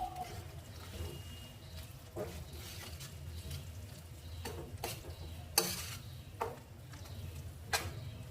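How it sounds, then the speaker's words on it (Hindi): Onion, ginger and garlic paste is stirred into tomato paste frying for a paneer curry, with a low steady sizzle broken by scattered sharp spoon scrapes and knocks against the pan, close and fairly quiet. "टमाटर वाले पेस्ट के साथ इसे भी अच्छे से मिला लीजिए।"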